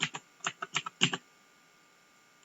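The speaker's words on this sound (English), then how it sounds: "you click the keys you want" Keys clacking on a Corsair K70 gaming keyboard, about eight or nine sharp taps in an irregular quick burst during the first second or so, then near silence with one last faint tap at the end.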